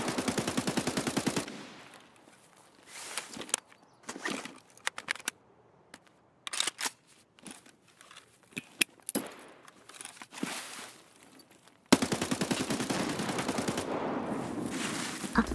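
Escape From Tarkov gunfire: sharp bursts of automatic rifle fire, loud and close, with short fast volleys and scattered single shots over several seconds, then dense sustained shooting.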